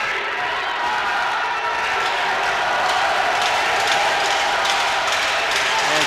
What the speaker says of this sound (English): And Slovakia now cheering.